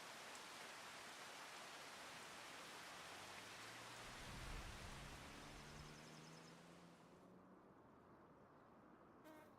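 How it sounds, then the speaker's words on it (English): Steady broadband rain hiss from the weather in Farming Simulator 25, loud and continuous, with a low engine-like rumble swelling midway before the downpour thins and fades near the end. "Stopped raining."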